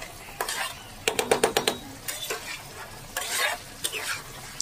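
A spice paste for a Rita fish head curry with taro sizzles in a pan while a utensil scrapes and clinks in quick, rhythmic strokes, close and fairly quiet, with no talking.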